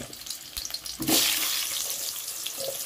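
Diced potatoes dropped into hot mustard oil in a wok on a gas stove set off a sudden sizzling rush that settles into a steady hiss of frying, with a few soft clinks before it.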